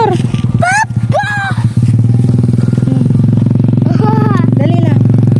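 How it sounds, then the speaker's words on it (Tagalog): A steady motorcycle engine hum on a rural joy ride to the farm, running continuously and close by, with a child's and an adult's voices talking over it throughout. "May motor, Eric, ha?"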